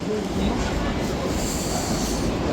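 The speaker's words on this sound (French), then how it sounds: "Bon, allez, on chope le métro." A London Underground metro train in Camden rumbles along with a broad roaring hiss and faint wheel squeal, loud and continuous throughout, with possible voices mixed into the noise.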